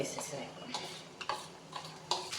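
A spoon stirs gongura chutney through a hot tempering of curry leaves in a pan, scraping and clinking against the metal in uneven strokes over a soft sizzle, close and moderately loud.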